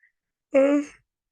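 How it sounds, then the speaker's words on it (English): A single drawn-out yawn, close and fairly loud, lasting about half a second with a voiced, tonal quality, otherwise quiet. "I only yawn when I record."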